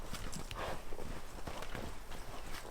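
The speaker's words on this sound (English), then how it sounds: "Want to run your bronc in the bronc pen, get him to moving out" A bronc's hooves move around a bronc pen on a ranch, a soft, irregular run of close thuds and scuffs over a constant outdoor background.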